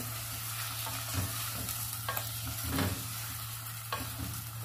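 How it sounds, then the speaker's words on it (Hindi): 500 grams of chicken is sautéed with garlic and ginger for dhaba-style chicken shorba, giving a steady, close sizzling hiss with a few louder stirring scrapes and splutters. "यह मेरे पास 500 ग्राम शामिल कर देंगे। इसको अच्छे से भून लेंगे।"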